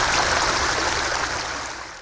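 Water trickles and splashes steadily through a stream in an Asian-themed poolside koi pond with large flat stepping rocks, a continuous close rushing that fades slightly at the end.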